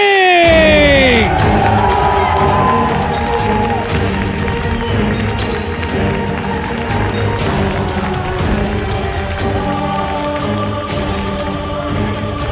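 A large arena crowd at an ESL One New York 2014 Dota grand final cheers and roars continuously, loud and sustained, with whoops and clapping mixed into the din.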